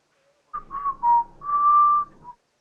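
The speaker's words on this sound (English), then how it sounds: "Whistling usually is inconspicuous." A character in Kingdom Come Deliverance whistles a short tune, a few brief rising notes followed by one long held tone, close and clear against a silent background.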